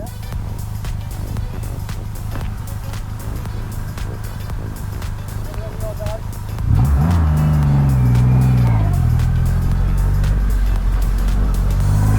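A Triumph Rocket 3 2500 motorcycle idles with a deep steady rumble on a closed road, then pulls away and accelerates with a loud rising engine note that climbs through the gears nearby.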